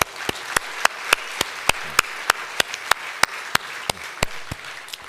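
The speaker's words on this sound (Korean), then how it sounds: "우리 큰 격려의 박수" Church congregation applauding the worship musicians, with steady, closely spaced claps standing out over a dense bed of clapping from the crowd. No voices.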